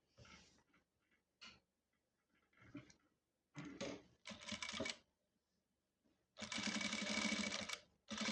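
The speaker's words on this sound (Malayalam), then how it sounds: "ഇപ്പം നമ്മൾ ഇതിൻ്റെ പുറത്തൂടെ തയ്ക്കാം" Sewing machine stitching the outside seam of a lined churidar, running in several short bursts and one longer steady run of about two seconds, close and fairly loud, with quiet pauses between.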